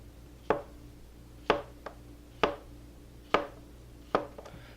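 A knife cuts through a potato on a cutting board in about six sharp, separate chops spaced roughly a second apart, close up and without talk.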